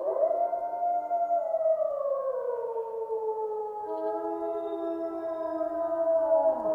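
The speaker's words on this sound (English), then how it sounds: "hearing a wolf howl is a pretty chilly sound." Long, drawn-out wolf howls in the video game DayZ rise and fall, several voices overlapping in a sustained, eerie chorus with no talking.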